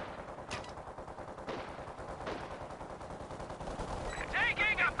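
Battlefield gunfire in the WWII strategy game Company of Heroes: continuous distant machine-gun rattle and scattered rifle shots, a few louder cracks, with shouted unit voices under the din toward the end.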